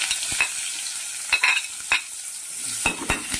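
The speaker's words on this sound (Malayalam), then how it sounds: "കടലയ്ക്ക് നമ്മൾ കടുക് വറുക്കാൻ പോവുകയാണ്" Mustard seeds spit and crackle in hot oil as a tempering for Kerala-style chickpea curry, a soft sizzle broken by several sharp, close pops spread unevenly through the moment.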